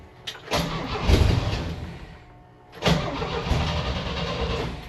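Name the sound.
Volvo C30 car engine starting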